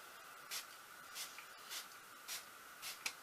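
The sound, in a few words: face mist spray being sprayed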